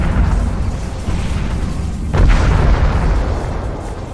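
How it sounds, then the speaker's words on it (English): A deep, rumbling boom of a spaceship explosion in Sins of a Solar Empire bursts out midway over a constant low roar of engine and battle noise. "So the explosions are a little more spectacular."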